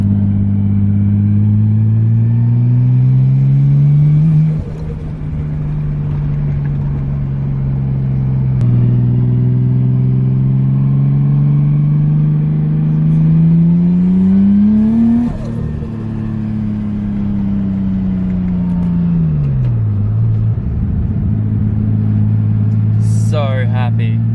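A Nissan Skyline pulls away on boost down a road, its engine note climbing through several gears with gear-change dips, loud and close from inside the car, ending with a brief chirp.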